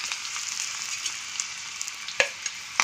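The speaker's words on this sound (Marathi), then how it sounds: "आता आपलं ऑइल गरम होत आहे त्यामध्ये आपण लसूण तडक्याची मिरची घाल पण घेतली ती घालणार आहे" Garlic and chili for a dal khichdi tempering sizzle in hot oil, a steady close hiss with small pops and crackles throughout.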